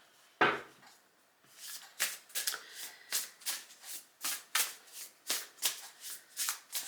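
A brand-new Golden Future oracle card deck by Diana Cooper being shuffled by hand, a crisp riffle followed by a steady run of close, rhythmic card flicks and slaps, with no talking.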